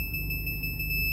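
A polyphonic front parking sensor on a Toyota Yaris gives a steady, piercing electronic tone with faint rapid pulsing, sounding clearly and continuously at close range as the car nears an obstacle.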